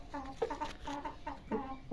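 Newly bought hens cluck in short repeated bursts, close and fairly clear, with no talk over them.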